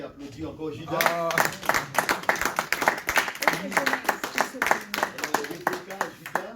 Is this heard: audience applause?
yes